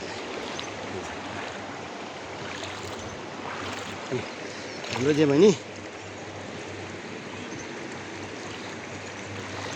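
Water of a shallow sandy river rushing and splashing steadily around people wading across, with a brief louder splash midway and people talking over it.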